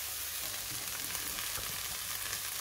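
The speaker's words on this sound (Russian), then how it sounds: "Прям в этом во всем жарим лук и добавляем сюда наш чеснок." Onion fries in a pan in the fat left from cooking chicken legs, a steady close sizzle and crackle running unbroken with no voices over it.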